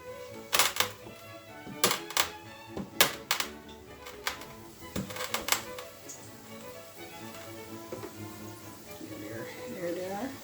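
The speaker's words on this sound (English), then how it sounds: "And for the pimento berries, I'm also gonna be crushing that. Just put them in a paper towel" Pimento berries wrapped in a paper towel are crushed in sharp bursts of crisp cracking and tapping, close by, several quick clusters over the first half, then quieter kitchen sounds.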